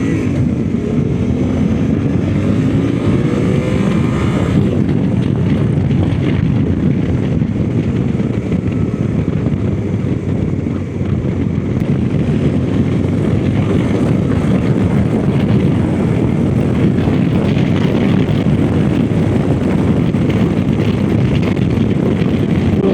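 Suzuki V-Strom 800 RE motorcycle being ridden, its engine droning steadily beneath heavy, constant wind rush against the microphone, loud and unbroken throughout with no talking.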